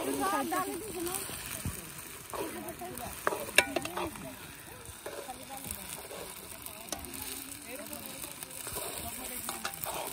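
Food with garlic sizzles in a pan at an outdoor picnic while it is stirred, with scraping and clinks over a steady frying hiss as people talk nearby.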